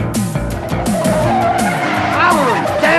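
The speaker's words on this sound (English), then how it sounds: "A car chase ensues" Car chase from the film Two of a Kind, with engines racing and tires squealing and skidding through repeated sliding screeches, loud and close, under a musical score with voices calling out.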